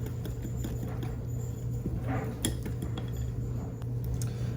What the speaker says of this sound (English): they always come out better using a hand whisk like this